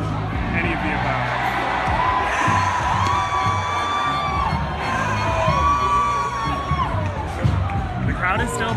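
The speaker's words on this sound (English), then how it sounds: "The crowd is still pretty hype" A large protest crowd in Berkeley cheers and whoops continuously, with shouting voices, whistles and chatter layered into a loud, dense roar.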